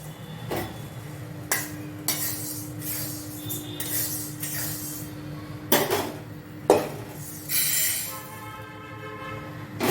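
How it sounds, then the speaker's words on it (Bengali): Split black gram (biuli dal) tipped into a metal pressure cooker in a home kitchen, giving several sharp metallic clanks and rattles at close range over a steady low background hum, with no talk. "এবার এই ডালটাকে আমি একটা কুকার নিয়ে নেবো, সেই কুকারের মধ্যে সেদ্ধ করে নেবো।"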